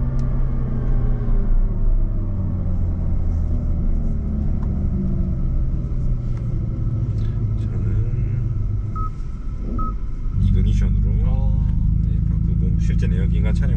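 A Hyundai Ioniq 5 N drives on a 3.4 km, 16-corner race track at a driving experience center, giving a steady loud low rumble that shifts and deepens near the end, with voices talking over it.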